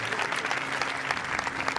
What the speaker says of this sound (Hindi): जो नजात है उसके लिए जोरदार ताली।